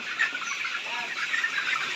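Chickens on a layer poultry farm cluck and chatter steadily as a dense, continuous flock sound, moderately loud with no voices over it.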